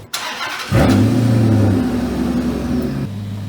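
A car with a transmission in limp mode, heard from inside on a test drive as the engine catches and rises into a loud, steady drone with a gear change, close and alone.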